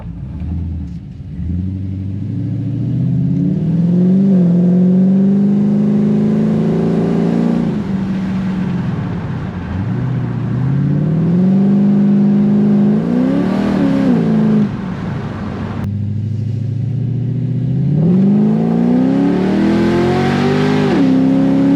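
A car engine fitted with a lumpy aftermarket OSPWarehouse cam runs loud and close, its uneven idle loping beneath several rising revs and throttle blips that dip back down, with no voices over it.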